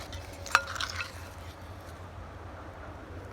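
A whisk stirs a nature soup, with one brief clink against the container near the start followed by soft swishing and a low, faint rumble.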